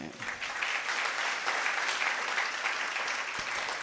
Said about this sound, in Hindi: ताली क्यों बजी गुरुदेव